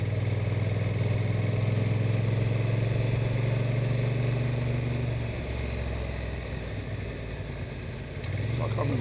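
A Honda NT1100 DCT motorcycle engine hums in a steady mid-low drone on a test ride, dips briefly as the gearbox shifts, then picks up again, with a rider talking over the engine.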